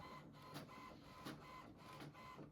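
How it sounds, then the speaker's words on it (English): An HP Envy 6120e printer copying a page gives off a steady, quiet mechanical whir with faint rhythmic pulses as the paper feeds through, and no one speaks. "you'll see a confirmation on the printer that it is copying"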